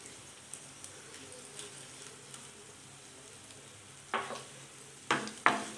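Ingredients for katte pongal stirred in a hot pan: a soft, steady sizzle runs throughout, with a few louder scraping stirs near the end.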